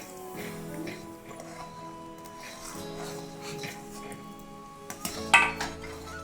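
A utensil scrapes and clinks against a pan in slow stirring of semolina for upma, with a sharper knock near the end, all under soft background music.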